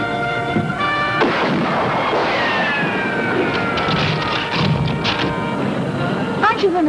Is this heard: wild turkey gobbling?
no